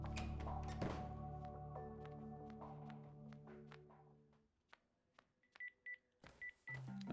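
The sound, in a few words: phone message notification in BROK the InvestiGator video game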